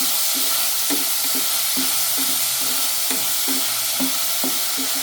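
Onions sautéing with salt in a pan for a chickpea kurma, a steady sizzle with a spoon scraping and tapping in a regular stirring rhythm, close and alone.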